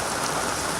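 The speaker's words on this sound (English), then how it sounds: "The downpour at the Australian Reptile Park in Somersby, heaven sent for a species decimated in the last few weeks." Heavy rain pours down at the Australian Reptile Park in Somersby, a dense, loud, unbroken hiss of water hitting surfaces with no voices.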